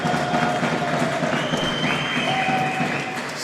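Steady crowd applause fills an arena at a Nations Cup 2025 fifth-place basketball game, a dense, continuous wash of clapping and cheering that fades slightly near the end.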